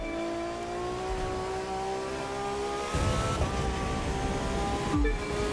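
Racing car engine in The Crew 2 pulling hard after an upshift into seventh gear, a steady high drone that rises in pitch, with a brief dip and surge near the end as another gear change hits.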